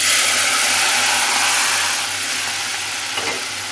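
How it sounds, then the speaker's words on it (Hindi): Masala fries in oil in a pan for a fish curry, giving a strong, steady sizzle that softens slightly partway through, with a low hum beneath and a faint knock near the end. "मेरा मसाला अल्लाह का शुक्र है कि बहुत अच्छा सा भून रहा है"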